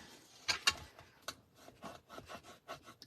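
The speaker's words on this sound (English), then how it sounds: "burnish those in just so that I've got a nice tight score line there, or fold line." A tool rubs along a score line on folded paper cardstock, a series of short scraping strokes, two sharper ones near the start and softer rhythmic swipes after, close and quiet.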